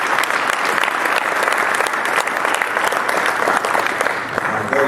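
Sustained applause from a crowd at a football banquet, loud, dense and even clapping filling the room for the whole stretch, with no clear talk over it.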